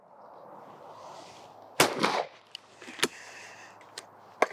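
A shotgun fires at a thrown clay target on a shooting range, one sharp loud report followed by a short rumbling tail, with fainter clicks and knocks afterward.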